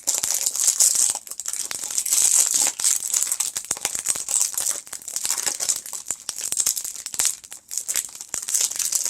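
Continuous crinkling and rustling of a yarn-tied package close up, with crackling bursts and short tearing sounds as it is pulled open by hand.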